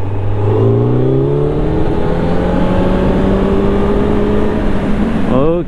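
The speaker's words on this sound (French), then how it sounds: "le bruit de l'échappement est moins présent tout le temps que sur la version full" A Kawasaki Z900 A2 motorcycle's four-cylinder exhaust roars loudly and continuously as it accelerates, the engine note rising steadily in pitch, then dropping sharply at a gear change near the end.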